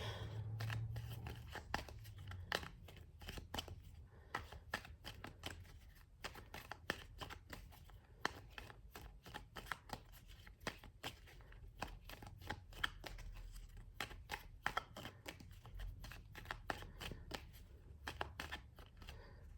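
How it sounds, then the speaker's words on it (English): Tarot cards being shuffled repeatedly, a steady run of crisp riffling snaps and soft flutters, close and fairly quiet, with no talking. "as I get ready to shuffle this one"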